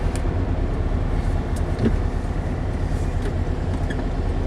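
A 1965 Porsche 356C engine idles steadily in the cabin, a low continuous rumble with slight unevenness running throughout and no talk over it.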